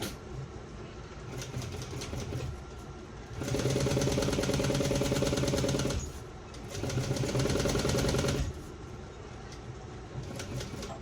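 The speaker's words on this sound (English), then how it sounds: "stitch down the other side, making sure that my needle is right on that line that I drew" A sewing machine stitching a shoulder bag seam, running in two sustained bursts of rapid mechanical whirring a few seconds each, close and loud, separated and surrounded by quieter motor hum.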